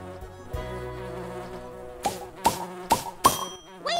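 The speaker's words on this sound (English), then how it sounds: "Way to go, little bee." A bee buzzes around pollinator plants, a steady droning hum broken by four sharp knocking taps in the second half.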